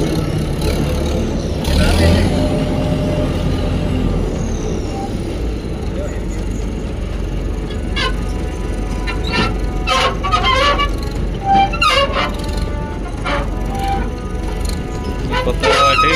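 A new W70 combine harvester pulls out onto a road, its engine producing a low, steady rumble with scattered clicks and clatters, while voices murmur nearby.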